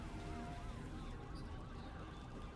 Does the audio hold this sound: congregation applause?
no